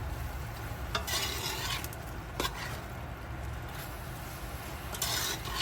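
Beef chowmein tossed and stirred in a hot pan, with a steady sizzle broken by several scraping stirs of the utensil against the pan, close and clear, no voices.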